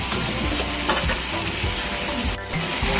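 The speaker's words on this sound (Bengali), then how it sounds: "মশলাগুলো দিয়ে এবার আমি সবজিগুলো ভালো করে ভেজে নিচ্ছি" Mixed vegetables frying with dry red chilli powder and cumin powder for a moong dal dish, a dense close sizzle with busy stirring and scraping, briefly dipping near the end.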